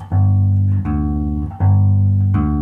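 A bass guitar sounds a low root-and-fifth interval, struck three times in a slow, even rhythm, each ringing out clearly with no talking.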